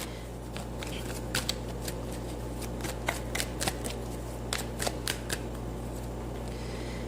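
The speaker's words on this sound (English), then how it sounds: "Let's get one more card out." Tarot cards being shuffled and drawn from a deck, a run of quick, crisp card flicks and riffles in a quiet indoor room over a steady low hum, close to the microphone and free of talk.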